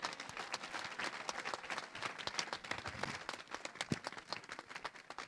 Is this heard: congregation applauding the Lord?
yes